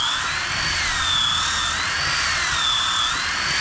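A Dewalt DWE6401DS power sander whines steadily while pressed hard against wood to grind away saw marks, a loud, continuous high motor tone that wavers slightly in pitch over a rough, gritty scraping.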